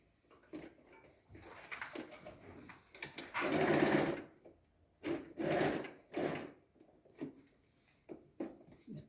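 A sewing machine stitches short zigzag stitches at a 2.5 length in several close, whirring bursts of uneven length, separated by quiet pauses and brief handling noises.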